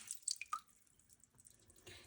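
Soybean sprouts are washed in a bowl of water, with a few light drips and splashes at the start followed by soft, quiet sloshing, faint and close.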